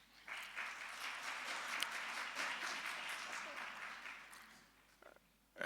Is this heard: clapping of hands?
yes